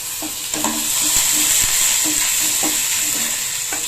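Dried red chillies and curry leaves sizzle in hot oil as a tempering for uppu kolukattai, with a steady bright hiss and a few soft stirring taps against the pan. No one speaks.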